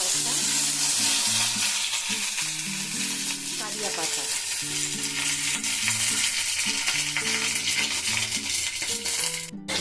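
Dry chillies, curry leaves and mustard seeds tempering in hot mustard oil, with loud continuous crackling and sizzling close up and music playing underneath.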